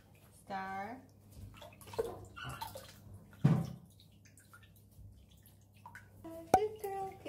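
Water runs into a tub while a dog is being bathed, a faint steady stream with scattered splashes, drips and knocks, heard under intermittent talk from a person.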